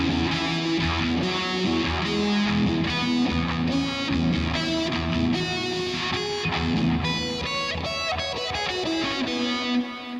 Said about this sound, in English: you play those notes against the E, and they suggest a major sound